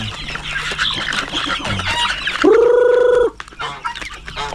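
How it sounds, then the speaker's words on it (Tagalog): A barnyard rooster, a native fowl, gives a loud, near cluck call lasting about a second, set among rustling, outdoor farm noise and other birds. "oh, rooster."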